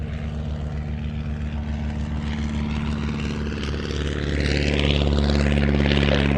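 A Navy propeller aircraft at the Fly Navy airshow at Shuttleworth gives a steady, droning engine roar that swells louder toward the end as it powers up for takeoff, with no talk over it.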